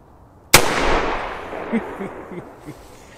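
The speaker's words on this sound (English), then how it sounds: "Shotgun. All loaded?" A single loud shotgun blast fired at a target cracks sharply nearby, followed by a long rolling echo and a few faint thumps as it fades.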